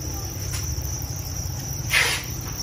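Field crickets at a cricket farm chirp in a dense, steady high trill, with a brief louder chirp close by near the end.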